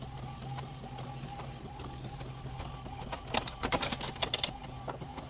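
An Epson WorkForce 7720 printer feeds paper and prints, a steady low mechanical hum with a burst of rapid clicking and ticking print-head passes near the end, heard close up with no talk.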